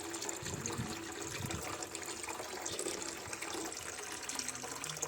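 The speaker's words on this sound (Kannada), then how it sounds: "ಪೈಪ್ ನೀರು ತುಂಬ ಸಣ್ಣ ಬರ್ತಾ ಇದೆ." Thin trickle of water running from a pipe at a home lawn, a steady broadband wash that continues without a break, near and fairly quiet with no talking.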